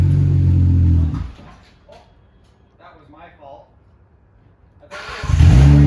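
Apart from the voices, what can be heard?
2008 Hyundai Tiburon engine revving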